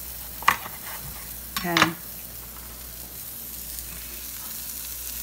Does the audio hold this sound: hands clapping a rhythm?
no